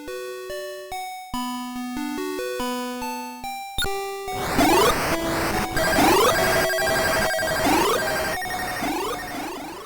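Opening music of Taito's arcade shooter Galaxian on PS2: a bright chiptune fanfare of stepped beeping notes, then a denser looping electronic passage with swooping sweeps, steady and alone with no talking.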